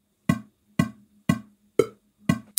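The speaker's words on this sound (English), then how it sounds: "Got a click track. Sounds like this." Click track metronome ticking at an even tempo, five sharp percussive clicks about half a second apart with a sixth beginning, each short and bright, heard alone in a quiet room.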